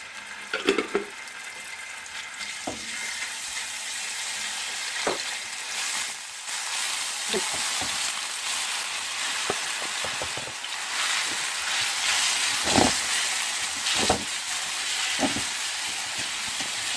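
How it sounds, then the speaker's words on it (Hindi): Chicken sizzling and frying in hot oil with garlic-ginger paste over a high flame for jalfrezi curry, a steady broadband hiss with occasional stirring knocks and clatters, close and fairly loud. "काफ़ी तेज़ आंच पे करना है, हाई फ्लेम पे करना है फ्राई"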